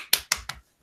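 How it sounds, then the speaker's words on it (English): Someone clapping on a podcast call: three quick, sharp claps in a row, close and crisp, followed by silence. "Stop it. Who's just clapping?"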